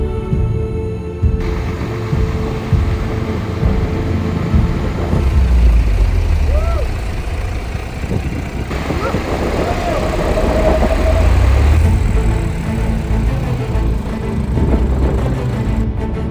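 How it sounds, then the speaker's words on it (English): A 4x4 vehicle driving through Sahara desert dunes gives a low, rumbling engine drone that swells and eases over the stretch, with voices talking over it. "We then continued driving through the Rajeh Dunes"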